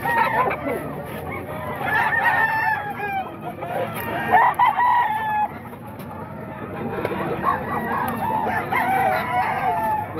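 Several roosters crow repeatedly amid clucking and general poultry commotion at a chicken market in Bocaue, Bulacan, some calls near and loud, others overlapping farther off, with faint voices underneath.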